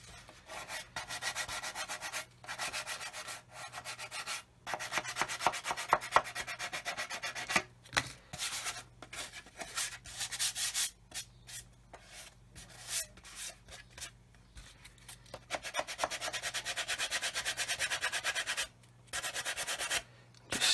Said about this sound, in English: Sanding away a bit of that cast finish that they gave it in the factory.